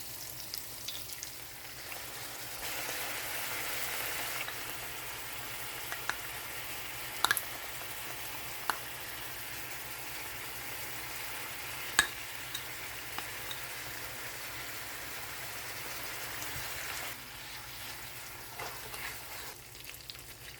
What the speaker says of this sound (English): Continue stirring until we create a thick sauce, then add the pork.